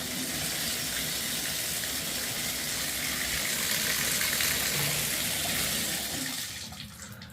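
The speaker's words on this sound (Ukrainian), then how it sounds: "Трохи незручно чим, що тут не регулюється напор води." Tap water gushes at full, unregulated pressure in a log cabin, a steady loud broadband rush that holds for several seconds before easing slightly near the end.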